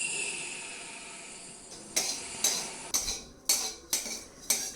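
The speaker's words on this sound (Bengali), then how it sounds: "শুকনো খোলায় এই তিলকে নাড়াচাড়া করতে হবে বেশ ভালো করে।" Black sesame seeds stirred in a dry pan give a soft, continuous rustle, followed by a run of rhythmic metallic scrapes and clinks of the utensil against the pan, close and fairly quiet, with no talking.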